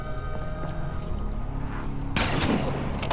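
A shotgun burst fires in a Call of Duty zombies custom map called Henge, one sharp, loud volley near the end that cuts through the game's background music.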